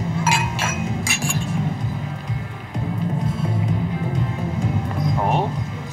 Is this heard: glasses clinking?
yes